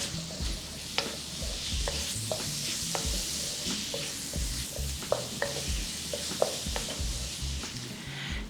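Black beans stirred through a sizzling stir-fry in a hot pan, with steady frying hiss and repeated scraping stir strokes close by, no talking.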